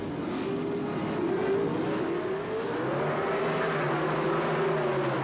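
Drag race cars at the 1978 NHRA Gatornationals, including the American Motors AMX of Wally Booth, roaring hard off the line, a loud, steady engine drone with rising pitch as they accelerate away.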